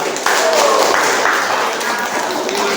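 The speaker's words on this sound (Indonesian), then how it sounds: "Tepuk tangan untuk kelompok putra" Students in a ninth-grade mathematics class applaud the boys' group before its presentation, a brief burst of many hands clapping at moderate loudness with some scattered louder claps and faint voices underneath.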